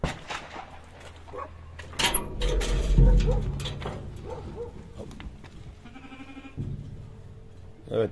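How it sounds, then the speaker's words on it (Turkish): Lambs bleating inside a small-livestock barn in a village, a few thin cries sounding from within while someone talks nearby, with a door or latch clatter midway. "içeride de kuzularımız var"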